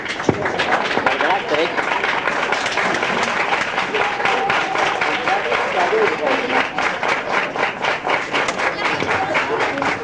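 A large seated audience at a spiritual camp rises and claps for a guest doctor, producing a dense, steady round of applause throughout with voices talking over it.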